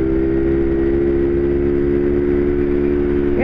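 A BadBoy 50 motorcycle runs hard at speed, its engine holding a loud, steady high drone that stays close and unbroken, with a faint whine near the end and no speech.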